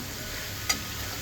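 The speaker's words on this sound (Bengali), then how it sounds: "পেঁয়াজ ভাজছি।" Onions frying in hot oil in a pan give a faint, steady sizzle, with one brief sharp tick near the middle.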